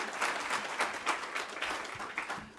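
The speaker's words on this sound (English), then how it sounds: "y'all give yourselves some snaps and claps" Youth leadership event audience gives a round of claps and finger snaps, a fairly soft, moderately distant patter of many hands with irregular sharper snaps throughout.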